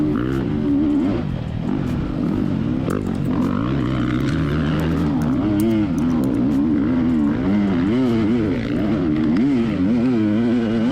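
A dirt bike engine held at full throttle while climbing a gravel hill during a race, a loud, steady droning roar that rises and falls slightly in pitch throughout, close up.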